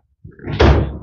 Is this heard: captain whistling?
no